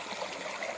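Cold stream water trickling and rushing at a temple, a soft continuous wash heard briefly at moderate distance.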